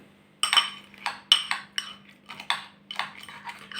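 Croutons being stirred with sour cream inside a container, giving a run of crisp crunchy scrapes and clinks that come in uneven bursts of roughly half a second each, close up, with no talk.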